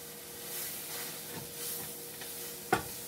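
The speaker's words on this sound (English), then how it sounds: "if you see your milk sizzling like that, your pan's probably a little too warm" Soft, steady sizzling hiss of milk in an overly hot pan for white sauce gravy, with a faint stir and a brief sharp clink near the end.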